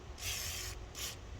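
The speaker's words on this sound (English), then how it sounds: "We'll spray that with a bit of WD-40." WD-40 sprayed onto the pump of a Kärcher K5.5 pressure washer, two close hissing bursts, the first longer than the second.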